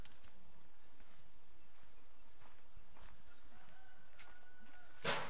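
Chickens clucking and a rooster in a village: faint, scattered clucks over outdoor ambience, with a louder burst of sound near the end.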